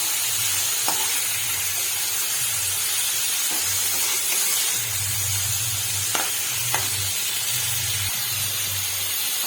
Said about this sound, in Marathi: छान असं आलटीपट्टी करून घेतली मी दोन मिनटं असंच तेलामध्ये राहू देणार आहे मी मासे फ्राय होत आहे